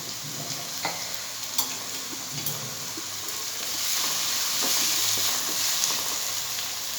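Garlic paste sizzles in a pan of browned onions for an egg omelette curry, a steady close frying hiss that swells midway, with occasional clinks and scrapes of stirring.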